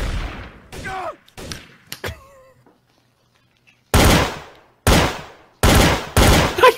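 Several loud bursts of video game gunfire in Trouble in Terrorist Town, in short volleys separated by pauses, with brief exclamations from a voice in between the early shots.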